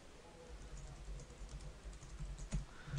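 Faint typing of a command on a computer keyboard at a Cisco ASA firewall command line: a few soft, scattered key clicks over a low background hum, with no talk.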